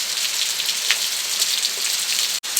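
Heavy rain hammers down outdoors, a loud, dense, close hiss of drops striking surfaces with occasional sharper splats, broken by one abrupt momentary cutout near the end; no one speaks.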